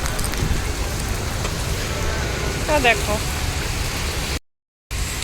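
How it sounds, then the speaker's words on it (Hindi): Heavy rain pours steadily outdoors on a roadside route, a dense broadband hiss running throughout, with a voice speaking briefly over it. "तो बारिश आ गई जी तेज"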